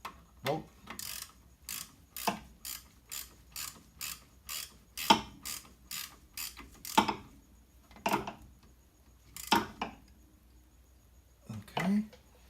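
A wrench ratchets while brake line bolts are tightened on a Toyota MR2 SW20, about a dozen sharp, evenly spaced clicking bursts close by, the later ones spaced more widely.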